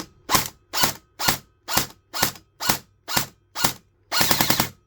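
Airsoft G&G M4 gearbox test-firing on semi-auto, eight evenly spaced loud mechanical clacks of the gears cycling, then a quicker burst of rapid ratcheting shots at the end, no talking.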